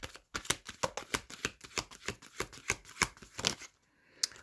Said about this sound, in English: I'm going to pull 2 more cards.